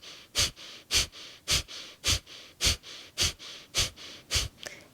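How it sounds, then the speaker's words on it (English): Rhythmic Kapalabhati breath of fire: about nine short, sharp nasal exhales in a steady pulse, roughly two per second, close and clear with no talking. "creating these short, sharp exhales through the nose."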